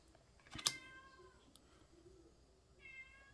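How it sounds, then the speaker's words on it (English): A pet cat named Pico gives a short, sharp meow close by, then a softer second meow follows a couple of seconds later against quiet room background with faint clicks. "Oh man, my cat wants some love again."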